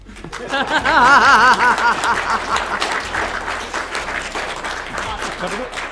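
A room of people at a game jam showcase applauds and laughs together, clapping loudly at first and then tapering off while a voice speaks over it.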